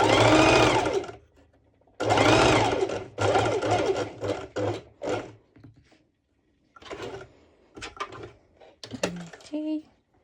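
A sewing machine stitching a top whirs in several loud bursts of rapid stitching separated by pauses, followed by a few shorter runs and light handling clatter, with no voices heard.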